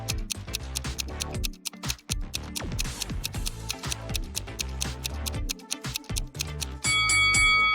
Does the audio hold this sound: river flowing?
no